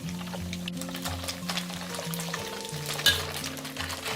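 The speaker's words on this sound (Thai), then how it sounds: "เดี๋ยวเราทอดให้เหลืองกรอบเลยค่ะ" Shredded fish deep frying in hot oil until golden and crispy, a steady close bubbling sizzle with faint stirring, while a low melodic background tone runs underneath.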